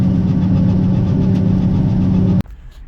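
A tractor engine drones loudly with a low rumbling hum while mowing ravines, then cuts off abruptly near the end, leaving quiet background.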